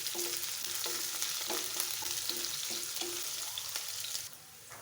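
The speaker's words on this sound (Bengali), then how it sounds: "দিয়ে দিচ্ছি পেঁয়াজ কুচি।" Chopped onion frying in oil with bay leaves, cinnamon and cardamom, a steady close sizzle broken by regular soft stirring scrapes, easing off near the end.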